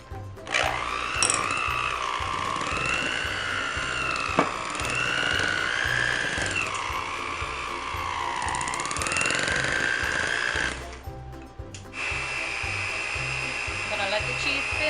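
An electric mixer whirs steadily as it blends goat cheese dip with Italian seasoning, its loud motor tone rising and falling in pitch as it works through the mixture, then cutting out briefly before starting again near the end.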